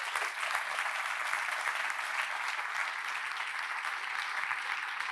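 An audience at a conference applauds the organizing team and volunteers, with steady, dense clapping that holds throughout without pause.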